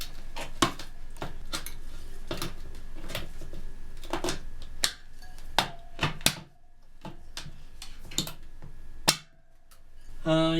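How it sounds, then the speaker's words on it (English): A metal tire spoon levers a tire onto the rim of a 1971 Honda CT90, giving sharp metallic clanks and taps at irregular intervals, close by, with quieter scraping between them. "Then for this last little bit, you use the tire spoon."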